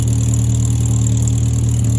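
A car engine idling steadily with a leaking exhaust, a continuous close, loud low hum and rumble with a faint hiss above it and no break for two seconds.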